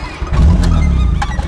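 A VAZ 21099 car engine at the roadside turns over and catches briefly with a low rumble, then dies out, all within a second or so.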